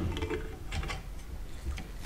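Steel pistol bolt of a Freedom Ordnance FX9 being slid back into the cleaned receiver, a few close metallic clicks and scrapes over a low background rumble.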